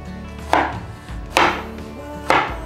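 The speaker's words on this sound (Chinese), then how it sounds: "今天是想要做红烧苦瓜，所以会切大块一点，免得卤一卤" Bitter melon being cut into large chunks with a knife on a board, three loud, separate chops spaced under a second apart, close up with no voices.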